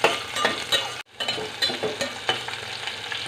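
Onion and green chili sautéing in a pan, a close, crackling sizzle broken by rhythmic spatula stirs, with a brief silent gap early on and no voices.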